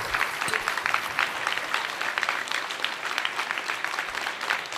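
A large audience at a literature festival claps steadily and densely, a continuous wash of applause without pause.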